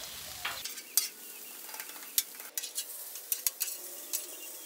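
Frozen hash browns stirred and spread thin on a multi-burner breakfast griddle, a soft sizzle under repeated sharp scrapes and clacks of a metal spatula, close by.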